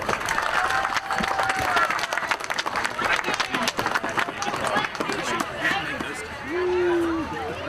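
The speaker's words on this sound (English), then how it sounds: "Let's give him a round of applause" A crowd at a fire department open house applauds for the fire marshal, scattered clapping and murmuring voices continuing under the talk for several seconds.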